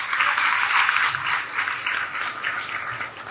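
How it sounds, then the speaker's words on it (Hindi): Devotees at a Sanatan Dharma temple gathering in New Delhi clap for the temple committee, a fairly soft, continuous patter of many hands that fades slightly toward the end. "इनके लिए एक बार ताली बजा दो।"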